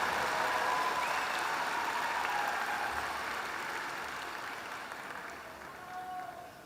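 A commencement crowd at the Cox School of Business applauds 2024 Professional MBA graduates, a broad, sustained clapping that slowly tapers off, with faint tonal sounds near the end and no speech.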